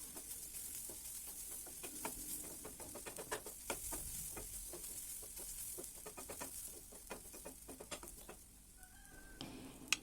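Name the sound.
carrot stir-fry being mixed in a pan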